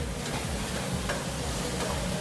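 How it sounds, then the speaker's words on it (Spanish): Salsa boils and sizzles in a hot stone molcajete, giving a dense, steady crackling hiss with fine bubbling that stays close and constant throughout, with no voices. "Miren cómo empieza a hervir Está hirviendo nuestra salsa."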